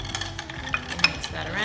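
Stirring a Caesar cocktail with celery salt and pepper in a glass, a short busy clatter of spoon against glass with small clinks, close and fairly loud.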